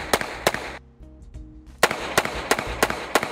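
Sharp, loud .22 Magnum revolver shots from a short-barrelled gun, fired at 5 yards: two quick cracks, a short pause, then five more in a steady rapid rhythm, with no talking.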